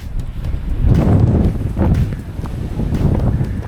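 Wind gusts across a rugged hillside path in Monemvasia, Greece, a steady low rumbling buffet against the microphone lasting throughout, with no voices.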